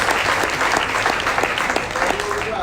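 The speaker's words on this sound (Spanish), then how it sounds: "denle un aplauso al Señor" A church congregation applauds steadily, a dense wash of clapping that holds throughout, with a faint voice or sung tone surfacing near the end.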